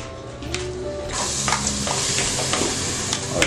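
Chopped onion sizzling steadily in a thin drizzle of olive oil in a hot pan, close and continuous, with occasional stirring scrapes and no talking.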